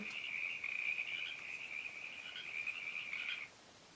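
A single sustained, buzzing frog croak trills steadily for about three seconds, close and clear against a quiet background, then stops.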